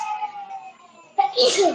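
A single sharp sneeze from a person bursts in near the end, after a stretch of quiet, tonal background sound.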